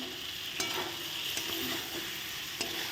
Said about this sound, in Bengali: এই দেখো এখন মশলাটা দিয়ে কষানো হোক